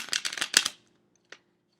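Tarot cards riffle-shuffled close up in a burst of quick papery flutters lasting under a second, followed by near silence and one faint tap.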